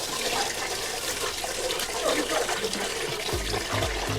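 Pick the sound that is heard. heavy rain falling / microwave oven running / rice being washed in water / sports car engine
rice being washed in water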